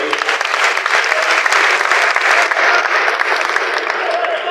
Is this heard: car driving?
no